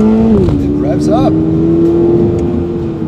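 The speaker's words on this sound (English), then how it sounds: "So if we shift this back into manual mode, back down," Subaru BRZ engine revving up sharply as it downshifts in manual paddle mode, a loud sustained rising tone from inside the car while people talk over it.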